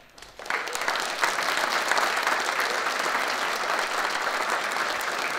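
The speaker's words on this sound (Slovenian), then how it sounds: "Še en aplavz jim dajmo." Audience applause for a tamburica orchestra at a folk music show in Lovrenc na Dravskem polju, rising quickly from near silence into sustained, dense clapping from a large crowd that holds steady to the end.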